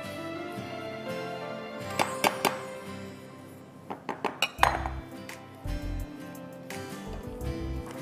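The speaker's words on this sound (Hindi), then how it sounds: "मैदा, बेकिंग पाउडर हल्के से मिक्स कर दीजिएगा" Flour and baking powder are mixed in a bowl, with a spoon tapping and clinking against the bowl in short bursts over a soft background hum.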